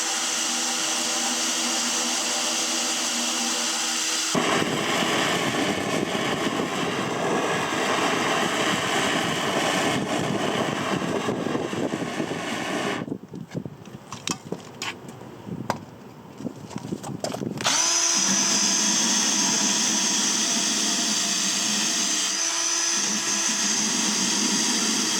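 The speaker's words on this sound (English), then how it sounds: "I have just got the wire brush and the blowtorch, and I've just gone across the seams" Wire brush scrubbing and a blowtorch roaring across the body seams of a Mini John Cooper Works car, a loud steady mechanical rasp that drops out briefly midway before resuming.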